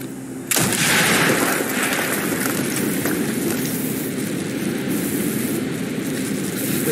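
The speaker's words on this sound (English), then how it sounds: "Mason, blow a hole in that fucking wall." An explosive charge blows a hole in a wall in Call of Duty Black Ops: a sudden loud blast hits after a quiet moment, then a long roaring rumble of debris and noise that slowly fades.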